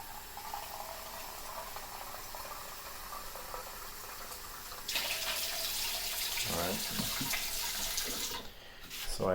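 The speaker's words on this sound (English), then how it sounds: "fill another quantity of tap water" Tap water runs steadily into a container for two cups' worth, a constant hiss that grows louder and brighter partway through as the flow increases, then shifts near the end as filling stops.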